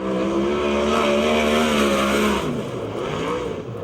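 A USAC sprint car at speed on the dirt oval at Perris, California, its engine a loud, sustained high-pitched roar that holds steady and then drops in pitch as it passes, up close with no voices.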